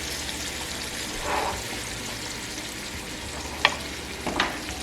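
Beef stock is stirred into a shepherd's pie filling in a pan, a low bubbling sizzle with soft scraping and a couple of sharp utensil clinks near the end.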